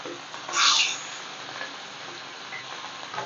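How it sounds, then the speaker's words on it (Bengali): Hilsa fish pieces dropped into hot oil, giving a sudden loud sizzling burst that settles into a steady, quieter frying hiss close by. "তেল গরম হয়ে গেছে আমি এবার মাছগুলো দিতে থাকি"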